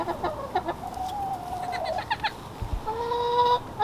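Backyard chickens in Central Valley summer heat cluck and call off and on, a few birds close by, with short chirps and a sustained higher note near the end.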